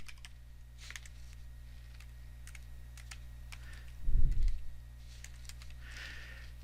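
Fingers tap on a computer keyboard, a handful of light, sparse clicks over a low steady hum, with a short dull thump in the middle; no speech.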